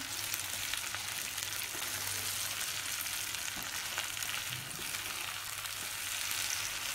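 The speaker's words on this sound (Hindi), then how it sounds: "एक डेढ़ मिनट इसको तेल में हींग और नमक डाल के हम इसी तरह से चलाएंगे" Green chilies frying in oil with asafoetida and salt, a steady close sizzle and crackle filling the whole stretch evenly, with faint stirring and no talk.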